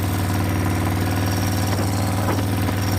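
A screen-used Harley-Davidson FXR motorcycle, the Black Death bike, idles steadily and close by with a deep, even low rumble and constant pulsing throughout, no voices over it.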